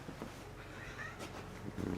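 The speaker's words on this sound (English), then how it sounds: "I've got Kitty. Kitty always helps" A cat meows in a knife-making workshop, a short faint cry over low background noise, with a brief rustle at the end.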